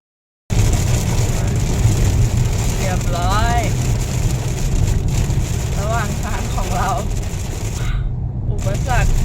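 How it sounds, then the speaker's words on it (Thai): Rain pours steadily on a vehicle during a road trip, a constant dense hiss and patter over low road rumble, with people talking intermittently above it. "ฝนตก"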